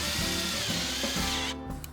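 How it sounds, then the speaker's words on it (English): Power drill driving rust-resistant screws into a composite porch railing, a close whirring motor with a brief ratcheting stutter before it cuts off near the end. "the entire assembly is locked in position with rust-resistant screws"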